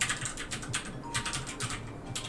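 Rapid bursts of keystrokes on a computer keyboard, clicking in uneven clusters with short pauses between them, close and clear with no talk.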